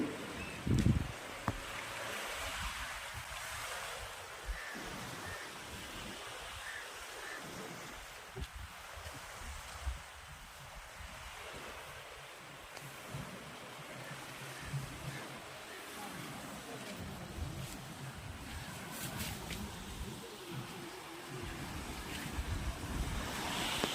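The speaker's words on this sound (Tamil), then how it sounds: "இது கடல் ஓரத்தில் உள்ள ஊர் அப்படிங்கிறதுனால மீன்பிடி தொழில் தான் இங்கே பிரதானமாக இருக்குது" Waves wash steadily along the seashore at the Ervadi fishing boat harbour, with constant surf and wind noise across the whole stretch and faint low voices underneath.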